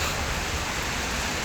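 Heavy rain pours in a dense, continuous hiss, loud and close, with no voices.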